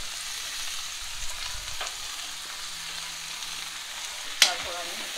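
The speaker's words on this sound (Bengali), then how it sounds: "এবার একে একে সবজিগুলো ঢেলে দিচ্ছি।" Potato and eggplant pieces fry in a pan with a steady broadband sizzle, one sharp clatter near the end as more vegetables drop in; no voices.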